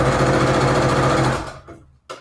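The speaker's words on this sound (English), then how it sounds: "I'm going to use a straight stitch down the middle" Sewing machine running a straight stitch, a loud, steady mechanical whir close by that stops after about a second and a half, leaving a faint clunk and a brief knock at the end.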